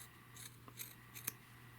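Scissors snip yarn strands on a crocheted sock monkey, a few faint, sharp cuts spaced about a second apart over a quiet room background.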